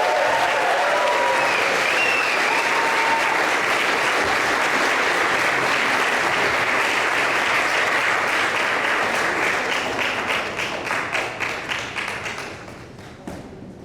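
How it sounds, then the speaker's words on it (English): A crowd gives sustained, loud applause for commentator Jack Posobiec after a speech, a thick wash of clapping that holds steady before breaking into scattered individual claps and dying out near the end. "another round of applause for our favorite Polish-American commentator, Jack Posobiec"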